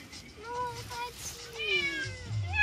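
A cat meows from inside a heavy pet carrier, giving several close, drawn-out plaintive meows in quick succession, the last ones rising and more insistent.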